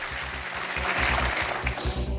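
Studio audience on the UK game show Who Wants to Be a Millionaire breaks into sustained applause, a dense steady clatter of many hands clapping that holds level for a couple of seconds without talk.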